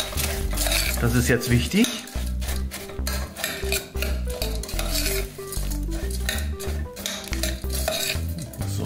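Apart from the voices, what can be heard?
mixing biscuit crumbs into soft butter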